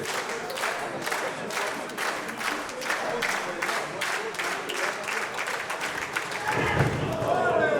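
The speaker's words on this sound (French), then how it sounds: "Les applaudissements mérités pour les deux athlètes." Crowd at an underground wrestling show applauding the two wrestlers, rhythmic claps and cheers ringing through the venue beneath a commentator talking over them.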